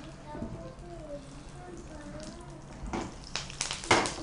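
Dried red chillies and curry leaves fry in a pan, a soft crackling sizzle that grows busier and louder toward the end, with people talking over it.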